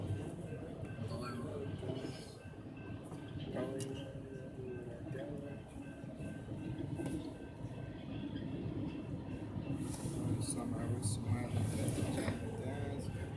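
A train rolling slowly past along Alcoa Road in the morning, a steady rumble of railcars with faint wheel clatter and occasional higher squeal, heard from nearby, with people talking and music over it.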